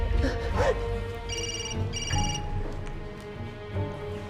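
A telephone gives two short electronic ringing bursts beneath people talking and other background sound.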